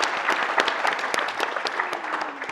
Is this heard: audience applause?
yes